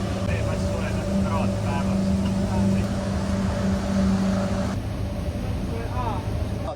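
A motorboat's engine drones steadily and close through the whole ride, with a constant low hum and water rush and a voice talking over it.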